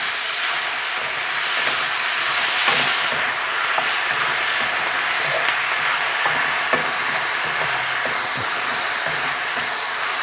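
Chicken, cashew nuts and yellow bean sauce stir-fry in a hot pan, giving a steady, loud, close hiss with faint clinks of stirring and no voices.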